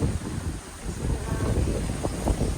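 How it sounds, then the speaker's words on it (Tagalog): Gusty wind buffets the microphone with a low, rumbling roar that swells and fades, with faint voices in the background. "Ang lakas ng hangin."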